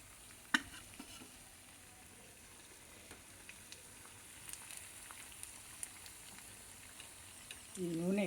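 Sabudana vada fry in hot oil, a faint, quiet sizzle with a sharp knock near the start and a brief voice-like sound at the very end.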